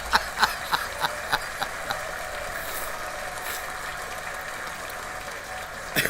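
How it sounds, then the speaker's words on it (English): A small group gives a round of applause at a campground on a Friday night, a patter of scattered claps rising at first, then a steady low background hum with faint clapping at the end. "Let's give Fatima a round of applause"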